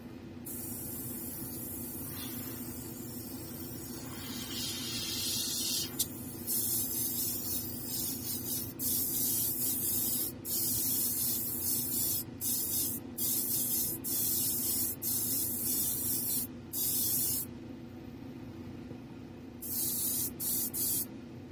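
A spray mist coat of paint goes onto 1/4 scale miniatures. It sounds as a soft, steady hiss in a series of short bursts with brief pauses between them, and there is no talking.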